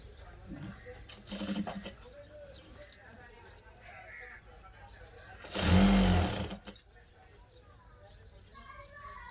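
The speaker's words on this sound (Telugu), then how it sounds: "ఇది తీసి మిషన్ కింద పెట్టి కుట్టుకోవాలండి" A sewing machine stitches fabric for a Punjabi dress top in a quiet room, with faint intermittent whirring and one loud burst of stitching near the middle.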